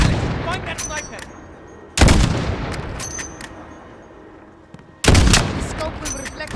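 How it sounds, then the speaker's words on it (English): Sniper rifle fire in the Xbox game Modern Warfare: two loud, sharp shots roughly three seconds apart, each ringing out into a decaying tail over a busy battlefield background. "He's picking us off, Alex!"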